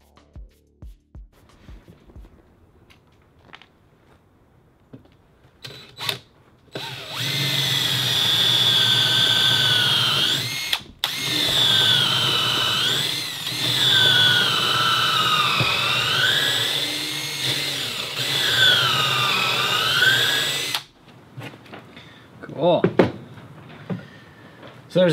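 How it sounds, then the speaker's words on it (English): A drill drives bronze screws into wooden boat frames, starting as a loud, sustained whine that rises and falls in pitch in several pushes over about fourteen seconds, then stopping, with quieter handling clicks around it. "it was the perfect time to test and see how screwing in the frames with the bronze screws was going to go"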